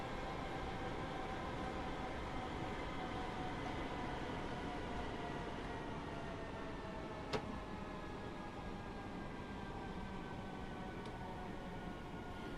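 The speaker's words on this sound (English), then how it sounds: "we're going to start slowing down the train to stop it at the next station" Train Sim World train on the Cathcart Circle Line in Glasgow slowing for a station stop, heard as a steady, loud rumbling drone with faint tonal whines throughout and one brief sharp click midway.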